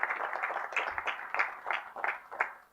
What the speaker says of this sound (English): please join me in giving a big round of applause to Dr.